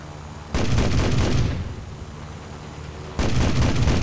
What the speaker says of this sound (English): 4 cannon shots.